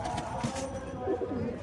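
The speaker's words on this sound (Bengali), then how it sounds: "এটা একটা জিরিয়া পায়রা, জিরিয়া মাদি পায়রা" A female Jiria pigeon coos softly with low, murmuring notes running steadily through a busy background, with a faint voice nearby.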